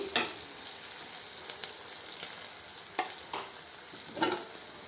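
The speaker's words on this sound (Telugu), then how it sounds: "చిట్టికడ పసుపు కొద్దిగా సాల్ట్ వేసి కలుపుకుందాం అంతా ఇట్లా కలుపుకొని" Beans with onion, turmeric and salt being stirred and fried in a pan, a steady soft sizzle with occasional scraping stirs of the spoon.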